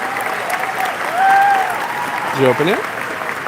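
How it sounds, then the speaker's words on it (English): An audience at a Pokémon card event's main stage claps for creators, a moderate steady patter running beneath a brief spoken exchange and a few tonal blips. "give a big hand and a round of applause to all of our creators here"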